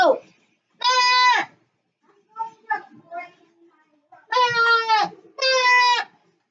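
Three bleating goat calls in the video game Plants vs Zombies Garden Warfare 2, each about half a second, with the middle one near the end followed closely by another, separated by soft, broken talk-like sounds.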